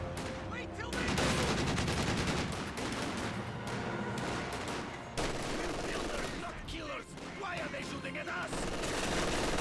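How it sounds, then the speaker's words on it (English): MG42 machine guns and other gunfire in a Company of Heroes 2 battle, a dense continuous roar of rapid bursts and volleys that runs loud through the whole stretch with no pauses. "MG42 firing away."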